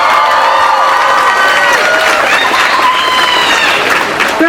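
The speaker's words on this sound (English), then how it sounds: "Let's give her a big round of applause." A graduation-day crowd at International Polytechnic High School's 2011 commencement claps and cheers steadily, a dense, loud wash of applause with scattered shouts running throughout.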